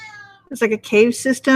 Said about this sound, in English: Excuse the cat. She's upset because I'm talking.